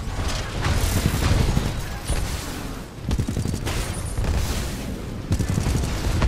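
Rapid bursts of gunfire in the video game Titanfall 2 rattle continuously through the whole stretch, loud and close, with several brief dips between volleys and no talk over them.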